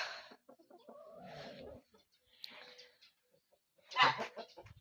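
Scattered clucking from a rooster mixed with murmuring voices, ending in a louder burst of sound near the close.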